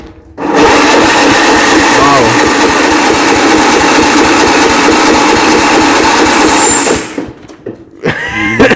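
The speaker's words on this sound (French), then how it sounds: "Allez, on va essayer de démarrer cet engin." An old vehicle's engine is cranked over in a long, loud, continuous whirring burst of about six seconds that cuts off abruptly, followed by brief clatter and rustling.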